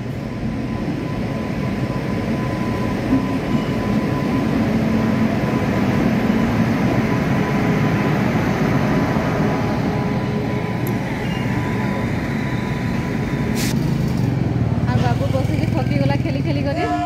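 A train runs through a railway station near Jharsuguda and Sarbahal, giving a continuous loud rumble and rattle of wheels on track that lasts throughout, with people talking over it.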